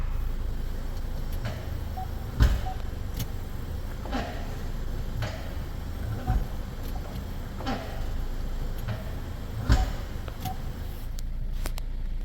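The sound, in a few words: Ford Escape shifting between reverse and drive, heard outside vehicle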